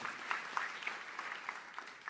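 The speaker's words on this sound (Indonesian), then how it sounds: "Sorak-sorak tepuk tangan yang paling meriah buat Allah kita." A church congregation applauds in a quiet, continuous patter of clapping heard from a distance, brief and even.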